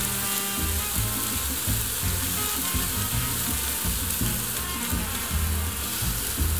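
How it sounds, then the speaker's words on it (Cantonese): Sirloin beef sears in a very hot wok with a few drops of oil, a loud continuous close sizzle and crackle running throughout with no talk. "燒熱個鑊，落幾滴油，鑊要夠熱，因為可以喺短時間內鎖住肉汁"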